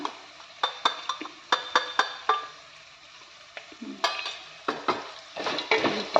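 Green chili, garlic, roasted gram, peanuts, cumin and mustard seeds fry in hot oil while a spoon stirs them, giving a steady sizzle broken by repeated sharp scrapes and clinks of the spoon against the pan.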